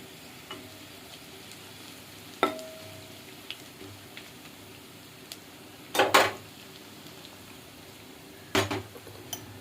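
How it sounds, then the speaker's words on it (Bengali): Onions fry in a pan for a Bengali fish-roe dish, a steady low sizzle broken by a few sharp clicks and clatters of a utensil against the pan, no voices. "পেঁয়াজগুলো একটু লাল লাল করে ভেজে নিব"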